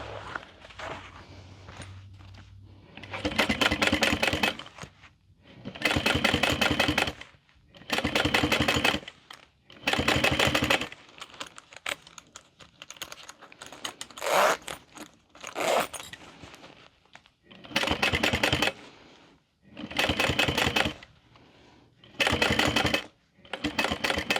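A sewing machine top stitches a handbag between the zipper ends in a series of about nine short, fast mechanical bursts separated by brief pauses, close and fairly loud.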